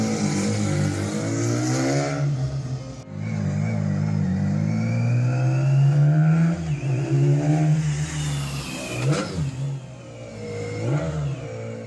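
A concept cafe racer motorcycle engine revs repeatedly nearby, rising and falling in sharp bursts with a throaty mechanical growl between blips.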